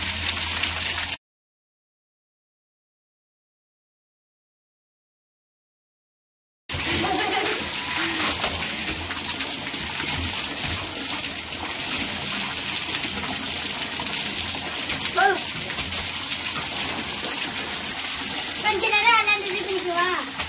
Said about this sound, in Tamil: நான் கொஞ்ச நேரம் மட்டும் தண்ணியில் விளையாடுறமா அப்படின்னு சொல்லி கேட்டாங்க